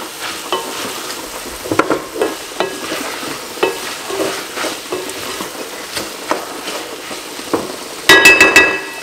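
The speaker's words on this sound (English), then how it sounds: "give it a stir. Get the leek to loose up." Leeks being stirred in a frying pan, a steady faint sizzle broken by scraping utensil strokes, with a brief louder clink of metal near the end.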